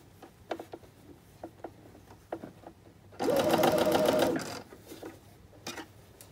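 A sewing machine stitches a fabric scrunchie in one continuous whirring burst of about a second, preceded by small clicks and handling sounds, close by with no talk.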